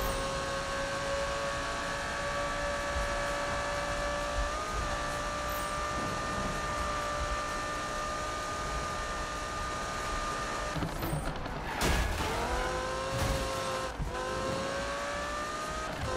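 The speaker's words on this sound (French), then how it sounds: "Elle a un pic d'accélération cette voiture." A race car in the Need for Speed 2015 video game accelerating, its engine whine rising steadily in pitch through the gears with sharp shifts and revving near the end, loud and continuous with no talk.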